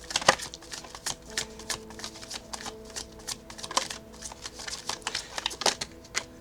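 Tarot cards being shuffled by hand in quick, crisp riffling bursts and soft flicks, close and fairly quiet, repeating irregularly without talk.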